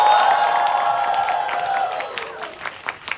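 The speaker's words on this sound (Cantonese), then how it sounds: "請你哋再大力啲掌聲鼓勵佢哋" Audience applause with some cheering at a live musical theatre show, a dense burst of clapping that starts loud and gradually thins into scattered claps.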